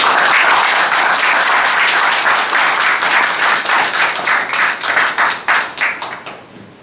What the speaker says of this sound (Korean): 한번 박수 한번.